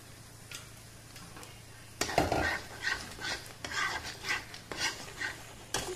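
Tomato and green chili paste frying in a pan for paneer: a soft low sizzle, then a series of close spoon scrapes and stirring clinks starting partway through, fairly quiet overall.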